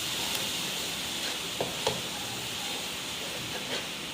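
Daal chana being stirred in a pan with salt, fenugreek, fresh coriander, kalonji and cumin, a steady close sizzling hiss with a few soft scraping clicks of a spoon against the pan.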